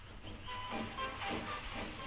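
A steam locomotive in an animated railway remake puffs off, giving a loud, continuous steam hiss with soft rhythmic chuffs swelling through it.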